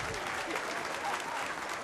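Applause from the studio audience of a German TV hit parade show, a dense sustained clapping that fills the room at a steady loud level from start to finish.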